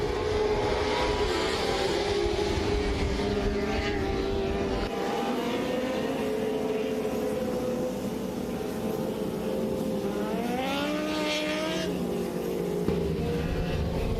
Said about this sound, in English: heat race number 2 rolling out on the track right now